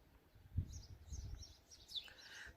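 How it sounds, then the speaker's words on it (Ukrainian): Small birds chirp and twitter outdoors in short bright bursts, faint and somewhat distant, with a few soft low thumps nearby. "Пташки співають."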